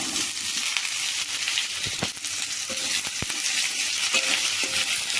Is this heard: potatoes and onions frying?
yes